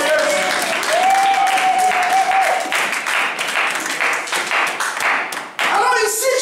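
A church congregation applauds and cheers to acclaim the Lord, with dense, sustained clapping mixed with voices and a held shout, a brief dip near the end before the clapping swells again.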